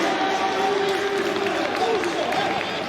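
Crowd noise and scattered applause rise at a Belgian league football match between KV Oostende and KV Mechelen after a recovery of the ball, a steady stadium roar with a commentator's voice running over it.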